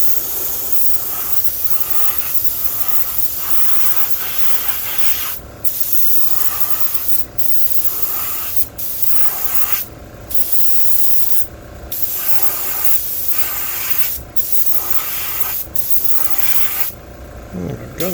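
An airbrush spray gun lays a yellow base coat onto a crankbait fishing lure, a steady broadband hiss running continuously up close, broken by several short pauses between bursts as the trigger is released.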